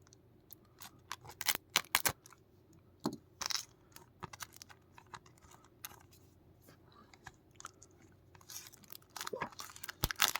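A 4K Blu-ray steelbook being unwrapped and opened up close, with sporadic sharp crinkles, tearing and plastic clicks in bursts separated by quiet gaps, busiest near the end.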